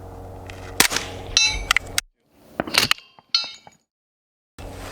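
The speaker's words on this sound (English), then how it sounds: "zeroing in some of the rifles, some of the firearms we brought out" Sharp, close rifle gunshots at an outdoor range while firearms are being zeroed, several cracks in quick succession with metallic clinks and abrupt cutoffs between bursts.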